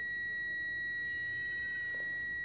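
Multimeter continuity test on the 2.5-volt filament coil feeding a microwave oven's magnetron gives a steady high-pitched beep that holds unbroken across the whole moment over faint background noise.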